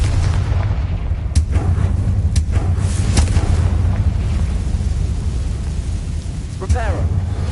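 Confringo spell blasts in Hogwarts Legacy, a few sharp booming bursts over a steady rumbling game background, with a voice speaking at points.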